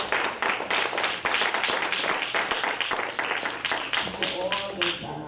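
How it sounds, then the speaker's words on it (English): A room of attendees at a Peekskill NAACP membership drive break into a sustained round of applause, dense clapping filling the space before a voice begins speaking near the end. "let's give ourselves a round of applause to start us off"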